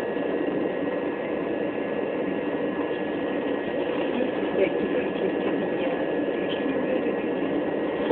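Train running between Sandwich and Ramsgate, heard from onboard: a steady, even rumbling wash of noise with a faint constant whine, unbroken throughout.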